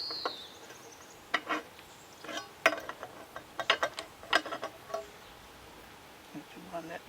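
Metal adjusters being tightened down against the rollers of a chainsaw mill attachment on a 1964 Homelite Super XL 12, giving a run of sharp close ratcheting clicks and ticks, irregular and quick, under a steady background hiss.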